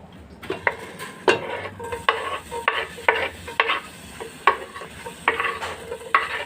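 Ingredients for ginisang pancit canton are stirred in hot cooking oil: a steady sizzle broken by rhythmic scraping strokes and clinks of a utensil against the pan, repeated about every half second.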